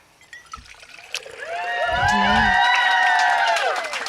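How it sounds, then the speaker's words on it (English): A steady stream of water pours and splashes from a stainless steel bottle into a container, building up after a few clicks and continuing smoothly until the end. "this is a really clean stream of water."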